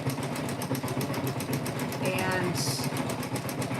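A sewing machine stitches quilt fabric for a quilt block, a steady fast mechanical whir running throughout, close and continuous, with a person talking over it.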